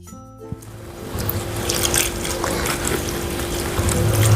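Fenugreek leaves are rinsed in a vessel of water, giving a steady sloshing, trickling wash with a light clink near the start. It is close and constant, and no voices are heard.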